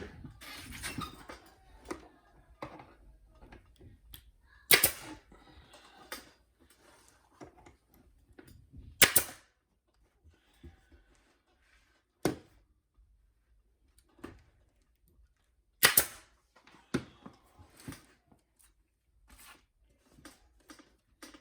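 A staple gun fires staples into an ATV seat cover as the fabric is stretched over the seat, giving sharp isolated clacks spaced irregularly several seconds apart amid quiet handling rustle.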